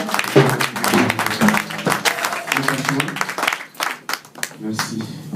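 A church congregation applauds to acclaim the Lord, steady clapping filling the room while voices speak and call out over it throughout.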